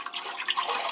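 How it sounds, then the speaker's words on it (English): Water pours from a bottle into a hot pan, 750 milliliters of filtered water, a brief, steady splashing hiss heard up close with no talk. "Now we're going to add some water to that."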